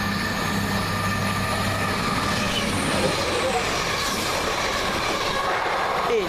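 A passenger train, service 1V55 from Manchester Piccadilly to Bristol, passes steadily and loudly close by at a station, a continuous rolling rumble with rail clatter throughout.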